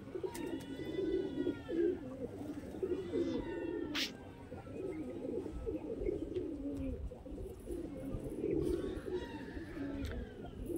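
Madrasi pigeons cooing in repeated soft, low rolling phrases that run almost continuously, with a few higher chirps and faint background noise.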